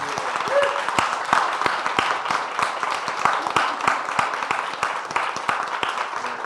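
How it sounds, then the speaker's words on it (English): Sustained applause from a seated audience at a book talk on wildfire, many hands clapping in a dense, steady patter with a few sharper close claps, a brief voice near the start. "if we could all give a round of applause to Liz and Amory"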